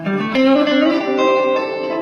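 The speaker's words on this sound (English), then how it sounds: "it also has a super moon reverb" Electric guitar played through an MP Custom Pedals Super Moon reverb on a boutique pedalboard, a sustained chord with ringing, washy reverb tail, loud and close, alone without talk.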